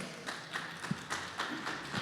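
A church congregation applauds during a sermon, a soft, fairly distant patter of clapping with faint regular pulses and a low murmur of voices underneath.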